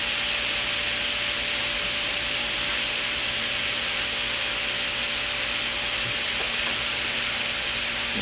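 Ground pork for lasagna cooking in a pan, a continuous sizzle and hiss that stays steady throughout, with no talk.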